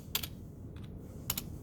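Two quick bursts of typing on a computer keyboard, a few keystrokes each, separated by a brief pause, close and fairly quiet.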